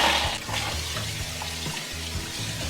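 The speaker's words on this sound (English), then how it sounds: "rinse them again in cold water" Steady running water pours and splashes for the whole stretch as potatoes are rinsed in cold water, with low rumbling clatter of the potatoes underneath.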